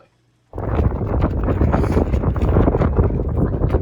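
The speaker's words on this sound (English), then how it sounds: "Yeah, that wind was absolutely brutal." Strong wind buffets the microphone on a beach, starting abruptly after a brief quiet moment and then roaring as a loud, continuous rumble with no speech.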